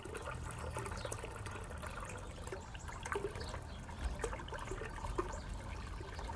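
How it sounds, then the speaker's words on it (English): Water pours steadily into a container fountain basin, a continuous close trickle and splash with faint gurgles throughout. "Now it's time to fill the basin with water."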